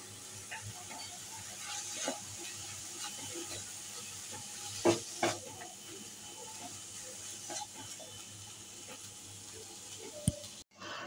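Spice masala with a little turmeric frying in a pan for a fish curry, faint low sizzle with occasional soft stirring clicks, quiet throughout with a short clatter near the end.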